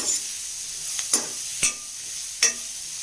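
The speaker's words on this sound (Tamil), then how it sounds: "நல்லா மிக்ஸ் பண்ணிக்கலாம் அடுப்பை மீடியம் ஃப்ளேமில் வச்சுக்கணும்" Onion and rock salt being stirred in a pan over a medium flame on the stove, with soft sizzling and a few distinct scraping strokes of the spoon against the pan, close and moderately quiet.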